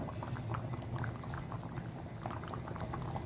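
A pan of bottle gourd curry bubbles quietly at a low simmer, a soft continuous gurgle with no voices.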